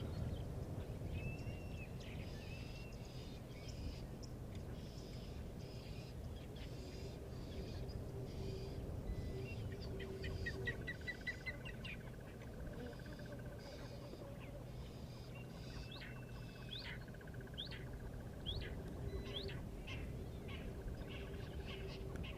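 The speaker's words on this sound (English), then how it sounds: "You can quite clearly hear the crested barbet as well." A crested barbet calls in a quiet outdoor setting, faint and somewhat distant, with repeated trilling phrases and other soft bird chirps scattered across a low natural background.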